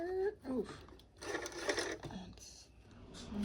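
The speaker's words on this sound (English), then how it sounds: "now we're just going to top stitch our little folded edge here" A sewing machine top-stitches along a folded fabric edge for a sling, giving a quiet, uneven mechanical whir in short bursts with brief pauses.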